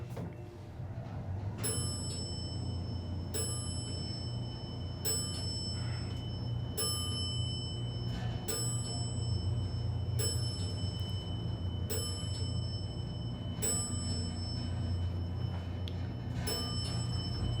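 A bright elevator bell chimes repeatedly at steady intervals, about every one and a half seconds, over a constant low mechanical hum.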